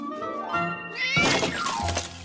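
A cartoon cat lets out a loud, close meow that rises and stretches into a yowl, followed by a clattering thunk as something falls in an animated scene.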